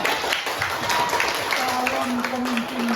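Students in a classroom clap during a microteaching lesson, a scattered round of applause with talking voices over it.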